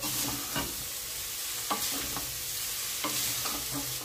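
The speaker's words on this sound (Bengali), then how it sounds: "এবার সেদ্ধ করা চাউমিনটা জল ঝরিয়ে রেখেছি, ভেজে নেওয়ার জন্য দিয়ে দিচ্ছি" Drained boiled chowmein noodles frying in a hot pan, a steady sizzle broken by intermittent scraping and stirring strokes of a utensil against the pan, close and without any talk.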